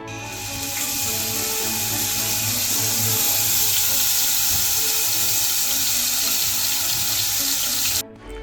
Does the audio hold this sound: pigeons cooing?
no